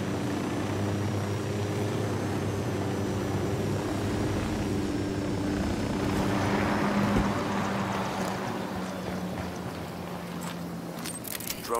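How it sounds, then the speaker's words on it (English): A surveillance drone in Ghost Recon Wildlands flies with a steady droning engine hum that swells slightly and fades, continuous and alone, with faint clicks near the end. "Drone is airborne."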